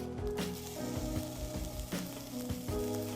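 Onion goes into a little oil in a wok for Singapore noodles stir fry, giving a quiet steady sizzle with a few rhythmic knocks and scrapes of stirring.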